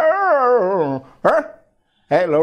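A mimicry artist's voice imitates a small puppy, giving a long wavering whine-howl followed by two short yelping barks, close and loud with a gap of silence between.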